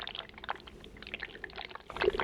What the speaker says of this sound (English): a bubbling brew of some sort, probably in a cauldron.